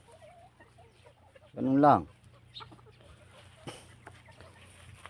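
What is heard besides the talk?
chickens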